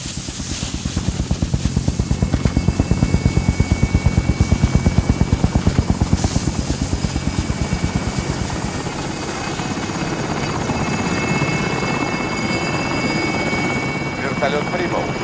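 A helicopter arrives in the video game Call of Duty: Warzone, its steady rotor chop loud and close for the whole stretch, easing slightly in the second half, with radio-style voices talking over it.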